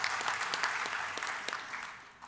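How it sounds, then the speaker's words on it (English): An audience at an annual meeting claps during a podium speech, a brief burst of scattered, fairly distant applause that swells and then thins toward the end. "you can clap."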